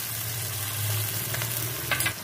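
Green beans frying in a pan with a little salt, a steady close sizzle running throughout with faint stirring scrapes near the end.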